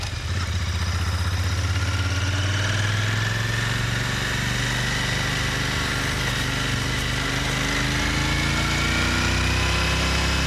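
A Royal Enfield Interceptor 650 motorcycle engine drones steadily while riding, a constant loud hum with gently shifting pitch as the revs rise and fall, with wind noise mixed in.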